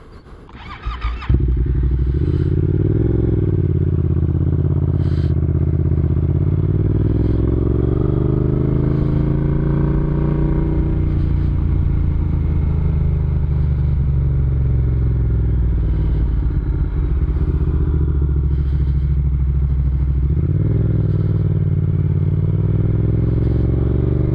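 A motorcycle ride captured by an Insta360 X5 Mic Pro microphone mounted on a helmet: the engine drones loudly and continuously, its pitch rising and falling with acceleration and shifts, with a little clatter at the start.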